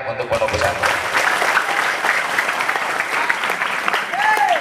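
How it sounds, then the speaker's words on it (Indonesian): An audience at a Maulid Nabi celebration held at an Islamic boarding school claps loudly and steadily throughout, a dense wash of many hands with a few scattered voices. "Tepuk tangan untuk pondok pesantren."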